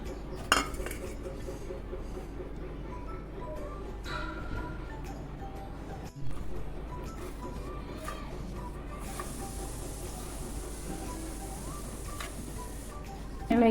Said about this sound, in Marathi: आता यामध्ये बेसन पीठ मिक्स करून घेऊ।